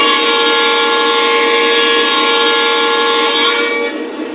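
An SD70ACe diesel locomotive horn blows one long, loud, steady chord with several bright tones, held for about three and a half seconds before easing off into a softer tail.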